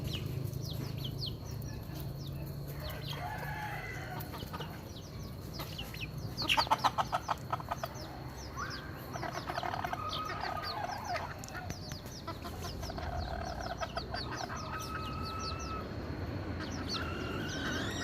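Chickens cluck softly in a farmyard amid chirping birds and a low background hum, with a brief burst of sharper clucking partway through.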